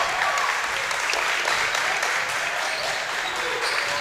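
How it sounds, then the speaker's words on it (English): Crowd in a gym applauds basketball players on senior night, a continuous wash of clapping that stays steady and fairly distant throughout. "so everybody's going to get an ovation"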